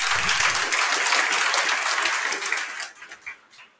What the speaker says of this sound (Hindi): आप अपने आप के लिए ताली बजा लीजिए